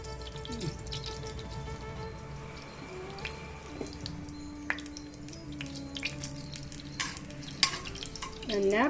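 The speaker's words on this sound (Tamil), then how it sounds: "எண்ணெய் காஞ்சிட்ருக்கோம் இப்போ இதை வந்து கடுகு போடுறேன்" Mustard seeds dropped into heated oil for a Tamil dish, spluttering and popping with scattered crackles over a steady low sizzle, some clinking from stirring, moderately loud and close.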